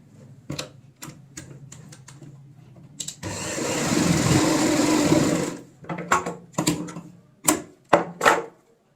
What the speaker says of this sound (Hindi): सेम इसी तरीके से हम जो ये वाले कोने हैं हमारे, इनमें भी सिलाई लगाएंगे।